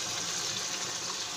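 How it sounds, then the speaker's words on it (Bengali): Water poured into a cooking pot of tilapia curry with tomato, a short steady splashing gush that holds at an even level throughout, close and alone. "সামান্য কিছু পানি দিয়ে দিচ্ছি"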